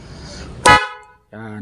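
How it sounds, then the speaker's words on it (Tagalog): A newly installed dual horn on a vehicle gives one brief, loud, blaring honk, with someone talking before and after it. "Nakapag-install na tayo ng dual horn"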